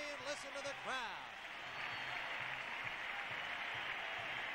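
Crowd noise at a stadium during an NFL game between the New Orleans Saints and Chicago Bears after a Bears touchdown, a broad, sustained distant roar that swells and holds, with a commentator's voice speaking over the start.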